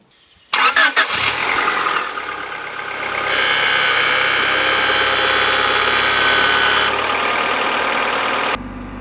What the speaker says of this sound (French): On va démarrer le moteur et on va les laisser tourner jusqu'à ce qu'il se réchauffe